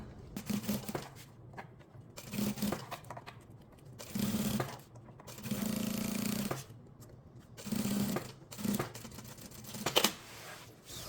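A sewing machine stitches a hooded outer garment in repeated short bursts of fast mechanical whirring, separated by pauses as the fabric is eased along, close and clear with no talking.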